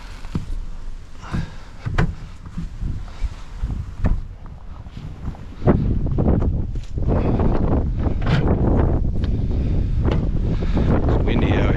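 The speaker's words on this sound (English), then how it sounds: "It's windy out here." Gusty wind buffets the microphone in loud rumbling bursts, building into a steady heavy roar outdoors.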